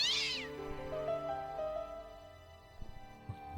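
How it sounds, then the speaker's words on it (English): A cat meows once near the start of a scene in the adventure game Broken Sword Reforged, a bright, close, wavering cry over a steady bed of ambient game music. "Kitty cat."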